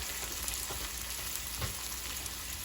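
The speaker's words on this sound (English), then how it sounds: "And then I'm gonna add my garlic" Garlic, a single potent home-grown clove, sizzles steadily in a hot pan over lowered heat while vegetable soup is being started, a continuous close frying crackle with a few soft pops and no talking.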